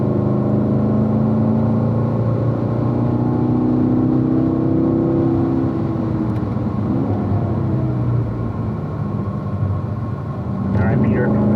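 A 2018 Corvette C7 Stingray drives on the track at Ron Fellows' Spring Mountain, its engine a steady, loud drone with a rising, whirring pitch, while a voice talks over it.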